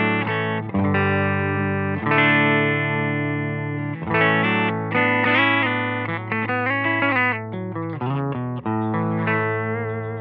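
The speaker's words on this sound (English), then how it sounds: "Silktone amp sounds like this." An electric guitar with Righteous Sound 1991 Gazing pickups plays through a Silktone amp, a loud, fairly clean run of sustained chords and melodic phrases changing every second or two, with no voices.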